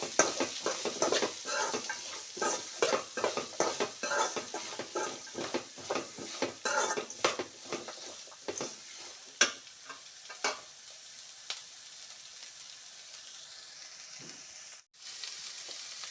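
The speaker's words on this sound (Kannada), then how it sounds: "ಇಲ್ಲಿ ಈ ಕಡೆ ಎರಡು ಈರುಳ್ಳಿ ಇದನ್ನು ಹುರ್ಕೋಬೇಕು" Two onions fry in a pan after the spices have been roasted, with a spoon scraping and stirring in quick, rhythmic strokes over a light sizzle. The stirring stops partway through and a faint sizzle carries on alone until a brief clink near the end.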